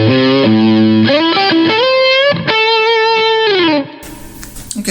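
An electric guitar through a full drive overdrive pedal with its boost engaged plays a loud, sustained distorted melodic line of bending, singing notes for about four seconds, then cuts to a brief scratchy strum.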